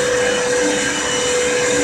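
A vacuum cleaner runs continuously while cleaning a room, a loud, steady motor drone with a constant high whine and no breaks.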